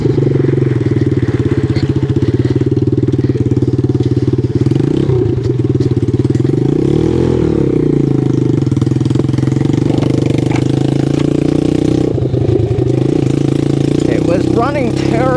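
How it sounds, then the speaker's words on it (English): A 1969 Honda CD90Z restomod motorcycle engine running after being started, loud steady close-up chugging with the pitch rising and falling as the throttle is blipped, in a forestry area. "I'll get back with you when I've got the bike fired up"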